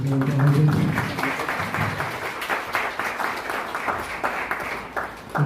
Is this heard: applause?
yes